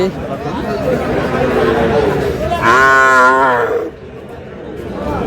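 At a cattle market selling Sahiwal bull calves in Dinajpur, a single loud, drawn-out moo rises close by over a background of crowd chatter and bargaining voices.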